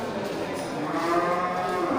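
A water buffalo at a livestock market gives a long, drawn-out low moo that holds steadily for about two seconds, fairly close, with faint background noise from the market.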